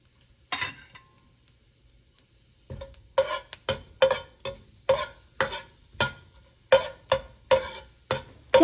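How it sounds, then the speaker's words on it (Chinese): Chili peppers stir-fried over low heat in vegetable oil in a hot wok, a soft sizzle broken by a steady run of sharp scraping spatula strokes about once a second, close and clear with no talk. "开小火煸炒辣椒几下"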